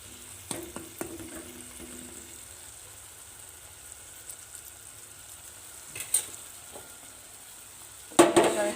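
Chili powder frying in oil in a pan while being mixed, a low continuous sizzle with a few spoon knocks and scrapes, then a louder clatter of stirring at the end.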